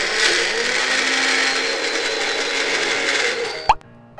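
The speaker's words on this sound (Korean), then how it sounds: "믹서기에 넣고 갈아보겠습니다." A kitchen blender grinding chicken whirs loudly and steadily at close range for several seconds, then cuts off abruptly with a brief clunk, leaving near silence.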